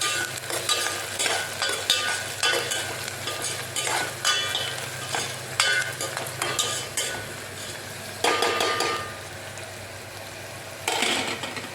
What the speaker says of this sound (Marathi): आता हांव हऱ्यो मिरसांगो घालता आणि ओली कोथमीर घालता आणि ही परतून घेता